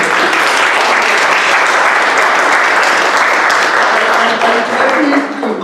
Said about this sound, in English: Can we have a big clap for Patricia